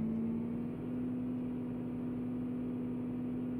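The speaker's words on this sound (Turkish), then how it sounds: "Otobüs çıkmakta da zorlanıyor." Bus engine in Euro Truck Simulator 2 laboring uphill on a snowy road, a steady low drone with a constant pitched whine, fairly quiet and unchanging throughout.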